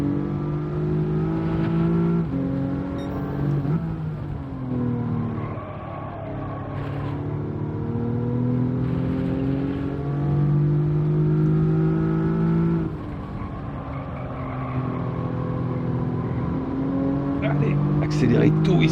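A race car in Gran Turismo 7 on the Trial Mountain circuit roars steadily, its engine pitch climbing and falling through repeated gear changes as it accelerates, with a voice talking over it.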